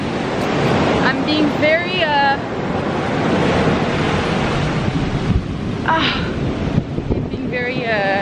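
Ocean waves washing in at a Bali beach, a loud continuous roar of surf and wind buffeting a close microphone, with a person talking and exclaiming over it.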